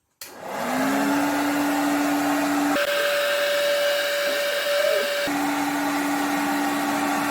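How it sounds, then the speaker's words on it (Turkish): A hair dryer runs steadily inside an oven, blowing hot air onto a temperature sensor for a model satellite thermal test; a loud continuous whir and hum with a tone that shifts twice, no talking. "Fön makinesini çalıştırıyoruz."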